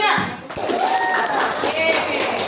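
A classroom of students applauds a classmate after a presentation on Southeast Sulawesi food, a brief burst of clapping that starts abruptly with voices mixed in.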